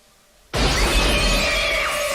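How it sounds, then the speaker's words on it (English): Glass shatters loudly as a killer crashes through a shower door in a 1997 horror film, a sudden violent burst that keeps crackling and tinkling for well over a second. "The killer crashes through the glass of the shower"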